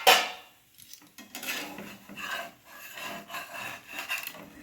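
A metal lid is lifted off a pan while a breakfast tiffin snack cooks, opening with a sharp clank followed by soft rubbing and scraping clatter of cookware, close and without talk.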